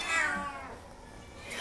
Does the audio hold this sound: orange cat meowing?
yes